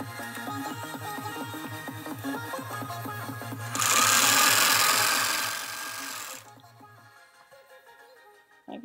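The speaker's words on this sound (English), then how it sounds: "Lift the foot, turn, lay the foot, and continue to sew all the way around." A sewing machine stitching seams on fabric for a suit, a close rhythmic mechanical chatter that swells into a louder whirring run before stopping near the end.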